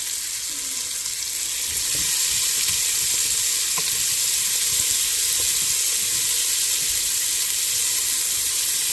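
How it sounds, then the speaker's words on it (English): Onions frying in a soup pot give a steady, loud broadband sizzle throughout, with faint occasional stirring knocks underneath. "dump these onions in there for about 5 to 6 minutes. We're gonna cook those until translucent"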